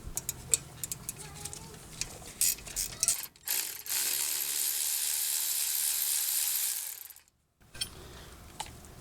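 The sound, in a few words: loosening brake caliper slide pin bolts on a 2014 Mini Cooper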